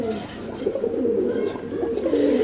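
Fancy homa and giribaz pigeons at a sale cooing continuously nearby, low throaty rolling calls overlapping through the whole stretch.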